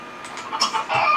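A chicken in The Sims 3 clucks in short, bright bursts that grow busier and louder toward the end, heard alone and close.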